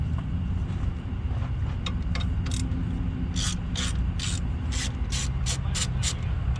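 A ratchet works on a 13mm bolt on a 2025-2026 Ford Bronco 2.3L engine. Steady rustling and rubbing comes first, then a run of quick, evenly spaced ratcheting strokes close up over a constant low background rumble.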